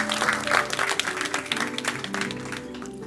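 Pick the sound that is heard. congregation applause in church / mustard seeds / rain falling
congregation applause in church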